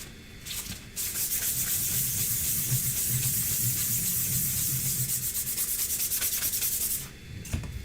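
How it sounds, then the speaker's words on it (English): Sandpaper scuffing a PEI flex plate 3D printer bed, a steady hissing rub with rapid back-and-forth strokes, close and fairly quiet, running for several seconds before stopping. "Scuff the bed up."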